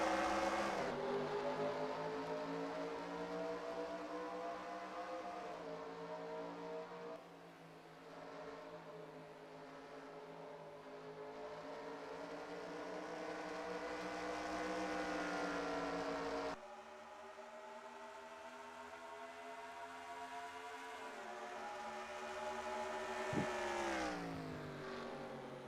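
Race cars in a stock car racing game, pulling away at the start of a playoff race at Gateway, make a faint, steady engine drone that rises and shifts in pitch as the field accelerates, with no talk over it.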